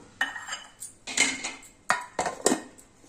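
A metal spoon stirs tamarind pickle in a pan, making about six sharp clanks against the pan in an uneven rhythm, close and clear, with no talking.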